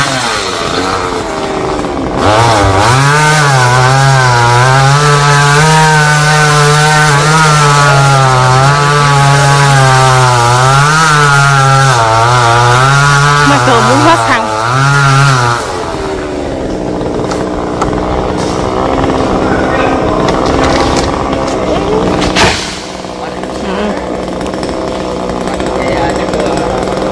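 Loud, close chainsaw cutting Xà Cừ tree branches that lean onto a house roof, the engine droning and revving for about fifteen seconds, then cutting out and leaving background noise and distant activity.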